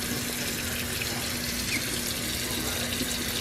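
Steady running tap water pours over a dyed scarf being rinsed, likely into a colander in a sink, with a constant close splashing hiss that never lets up.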